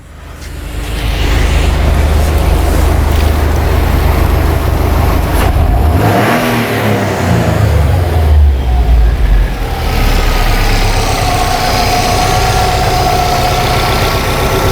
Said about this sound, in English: I want to rev it like I did before when I got the car to fail